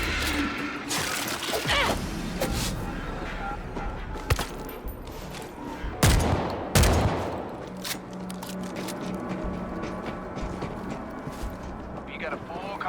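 Gunfire from the zombie shooter World War Z, with sharp bursts clustered around the middle among busy game effects and character voices throughout.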